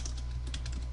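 Steady typing on a new computer keyboard, close and clear with rapid continuous key clatter and no voices.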